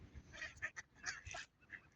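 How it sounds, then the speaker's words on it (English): Ducks and geese honking and quacking at feeding time, a cluster of overlapping nasal calls in quick irregular bursts, moderately close and fairly faint, over a low background rumble. "there's a lot of happy duckies here"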